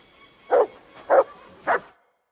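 A dog in the medieval role-playing game Kingdom Come: Deliverance II gives three short, evenly spaced barks at moderate loudness, then falls silent.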